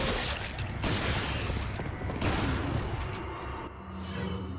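Rapid automatic gunfire from a TMP in Resident Evil 4 (2005), set in the castle section. Dense, continuous bursts fill the whole clip with short gaps between them, loud and close, with no talk over them.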